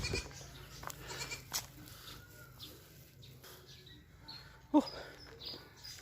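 Goats on a goat farm bleat, with one sharp, loud bleat standing out near the end over quieter farm ambience and scattered smaller animal calls.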